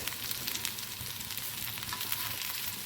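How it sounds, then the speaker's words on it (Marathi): Beet leaf vadi shallow frying in a pan, a steady close hiss and crackle of sizzling oil, dense and even throughout, with no voices. "हे साधारण खरपूस होईस तोपर्यंत दोन्ही बाजूने आपण फ्राय करून घेऊया."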